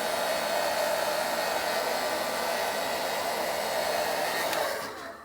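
A hair dryer blows steadily on a beard during styling, a loud, continuous close-up whoosh with a steady hum that carries on unbroken, then cuts off abruptly just before the end.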